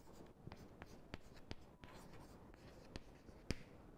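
Chalk or a marker taps and scratches on a board during a mathematics lecture: a faint, irregular series of short strokes, close by and quiet, with no talking.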